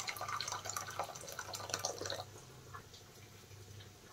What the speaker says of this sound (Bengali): বাটিতে দেখেন আমি একটু গরম জল নিয়ে নিলাম।